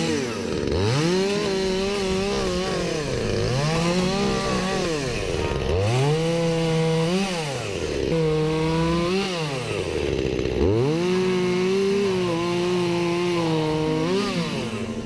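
A Makita EA3201S chainsaw cuts straggly tree branches for a burn pile, its engine rising and falling in repeated loud revving surges as it bites through the wood, close and continuous with no talk.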